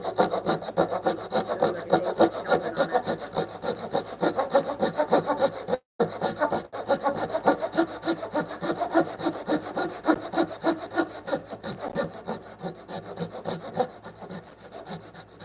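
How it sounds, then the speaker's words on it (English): Hand saw making stop cuts in timber for a timber frame bunk bed: steady rhythmic back-and-forth rasping strokes, close and continuous, with a brief pause midway, no talking. "I think I got all my stop cuts in."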